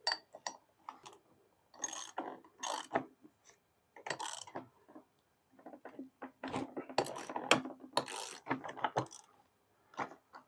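Clicking of a 9/16 socket ratchet loosening the blade nut on a Craftsman V20 edger, heard as close, irregular bursts of rapid ratcheting separated by short pauses.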